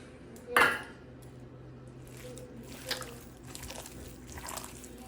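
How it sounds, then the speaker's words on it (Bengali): Soaked bread being squished by hand into a seasoned chicken mixture in a bowl, with one sharp clatter of a utensil or dish early on, then soft wet squelching and light knocks. "সব কিছু একসাথে মিশিয়ে নিচ্ছি মিশিয়ে এটা মেখে নিচ্ছি"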